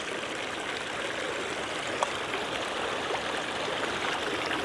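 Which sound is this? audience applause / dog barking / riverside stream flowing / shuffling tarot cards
riverside stream flowing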